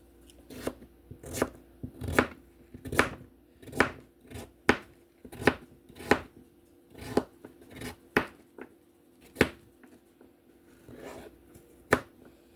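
Knife chopping vegetables into bite-sized chunks on a cutting board during weekly meal prep: a dozen or so sharp, close thuds in an uneven rhythm, with no talk over them.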